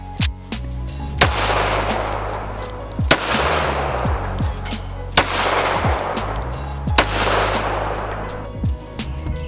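Four loud, evenly spaced gunshots from a full-size Smith & Wesson M&P 9mm pistol, each sharp crack followed by a reverberant echo tail, with no talking.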